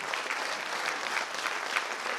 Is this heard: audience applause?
yes